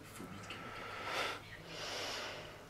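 A deep inhalation during a phobia therapy session, one slow breathy draw of air followed by a second softer breath, close and quiet against steady background hiss.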